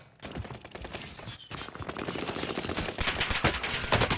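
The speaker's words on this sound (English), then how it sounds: "Bro, I'm getting shot from everywhere." Rapid gunfire in an online shooter video game, with bursts of automatic fire and sharp overlapping shots coming from several directions, growing denser and louder toward the end.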